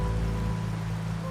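Steady rain falling in the video game Wuthering Waves, a continuous wash of drops under a low tonal music bed, with no voices.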